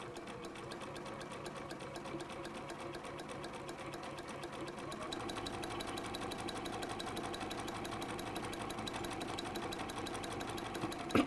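Sewing machine stitching fabric along a diagonal line, a close, steady rapid mechanical whirring that runs continuously with no voices and ends in a small clunk.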